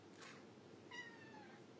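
A cat meows twice, faint and a little distant, first a brief soft cry and then a longer drawn-out meow against a quiet indoor background.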